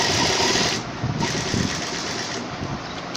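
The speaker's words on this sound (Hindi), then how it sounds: "सिलाई शुरू करूँगी।" A sewing machine stitches two layers of cloth together for a homemade face mask, its fast steady whirring running continuously and close for several seconds, with no talking.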